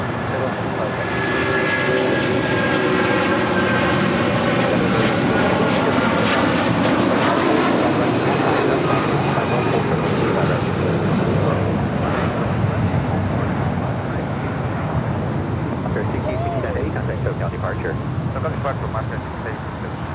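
An Airbus A330-200 converted freighter takes off from LAX, its jet engines roaring loud and steady for the full stretch before the thunder eases slightly as it climbs away.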